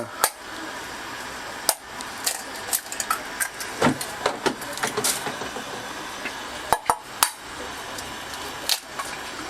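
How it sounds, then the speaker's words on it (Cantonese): Eggs are cracked and beaten for cooking: a run of sharp, irregular taps and clicks against a bowl, some louder than others, with short quiet gaps and no voices. "我哋就打雞蛋啦"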